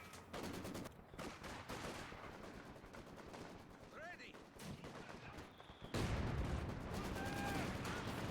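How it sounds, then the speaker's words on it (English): Maxim machine gun volleys in Company of Heroes 2 rattle in rapid bursts amid heavy battlefield gunfire, with a louder barrage near the end and a few whistling effects layered over the din. "got some volleys in from the Maxim"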